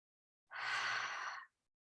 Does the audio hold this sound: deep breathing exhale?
yes